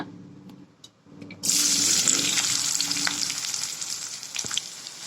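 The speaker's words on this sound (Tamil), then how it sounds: "எண்ணெய் ஊற்றி எண்ணெய் ஹீட் ஆனோடனே வெங்காயத்தை சேர்த்துக்கோங்க." Onions drop into hot oil for an egg Maggi dish and a loud, steady sizzle and crackle takes over, continuing close by without any talking.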